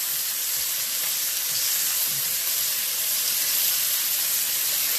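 A pot of pasta water on the stove boils with a steady, dense bubbling hiss that stays loud and even throughout, no voices over it.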